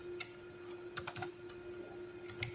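A few quick keystrokes on a computer keyboard as a file name is typed, soft clicks in short clusters over a steady low hum.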